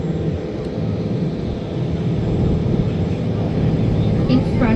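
Seaplane flying over Copenhagen harbour, heard from a sightseeing boat as a steady, fairly loud engine drone that swells slightly toward the end over constant boat and water rumble.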